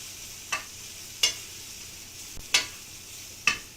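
Mushrooms and onions frying in a pan, a soft steady sizzle under a few sharp clicks and scrapes of stirring spaced about a second apart, close by.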